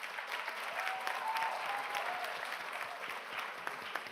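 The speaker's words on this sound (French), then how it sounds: "une belle salle d'applaudissements pour nos candidates et nos candidats" A hall audience applauds the candidates of an eloquence contest final, with even, dense clapping from many hands holding steady from start to finish.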